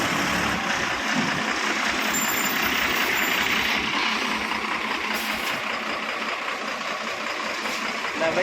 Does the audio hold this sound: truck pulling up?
yes